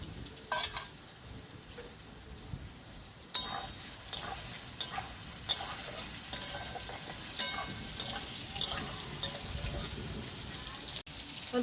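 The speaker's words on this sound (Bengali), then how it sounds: "এখন আমি ভেজে নেব।" Soybean chunks sizzle and fry in mustard oil in a wok, with a steady crackling hiss broken by intermittent scraping stirs and clinks of the spatula, close and moderately loud.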